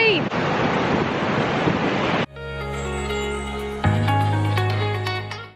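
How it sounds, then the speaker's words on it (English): Strong wind buffets the microphone over crashing surf on the coast at Woolgoolga, Australia, for about two seconds, then gives way to music with sustained tones. "It's so windy!"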